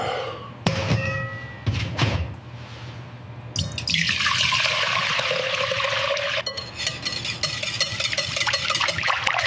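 Water from a sink tap gushes steadily after a few dull knocks and thumps, its loud hiss starting abruptly and continuing to the end.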